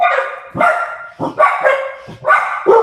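A dog barks in a run of loud, close yips and bow-wows, about five sharp barks with short gaps between them. Nothing else competes with it.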